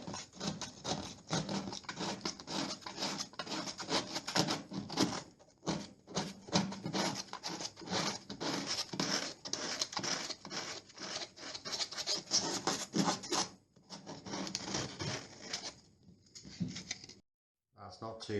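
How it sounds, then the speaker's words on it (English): Warm sandpaper rubbing by hand along the cut edge of Gyproc plasterboard coving, a close, continuous raspy scrubbing in quick back-and-forth strokes with brief pauses near the end. "just get some warm sandpaper and just smooth that edge off"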